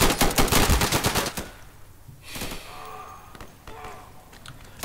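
Rapid bursts of automatic gunfire from bots in the video game Insurgency, a loud dense volley for over a second, then a pause and scattered sharper shots and impacts at moderate distance.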